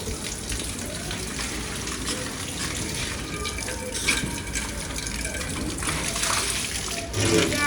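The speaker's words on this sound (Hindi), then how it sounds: "पतीले को धो रही है अम्मी" Water runs and splashes steadily as a large cooking pot is washed out by hand, a constant close gush of liquid with some faint voices in the background.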